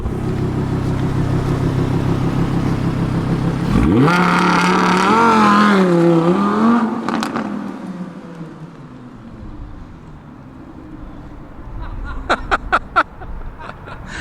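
An Audi R8 V10 Plus launches hard from a standstill, its engine idling loudly before surging into a rising, roaring rev that peaks and then fades, followed by a few sharp knocks near the end.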